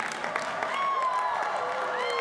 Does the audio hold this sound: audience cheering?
yes